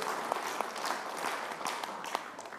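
Audience applause at an indoor political party cooperation event, a steady wash of many hands clapping together at moderate volume, continuous and alone with no talk over it.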